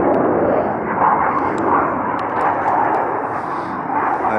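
A jet plane roars past overhead, a broad loud rush that swells and fades slightly, with no talking.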